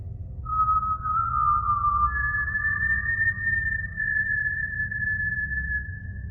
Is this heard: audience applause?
no